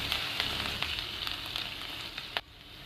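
Finely chopped ginger, garlic and green chili sauté in hot oil for Korean fried rice, making a continuous close sizzle with a few stirring scrapes and a sharp knock near the end.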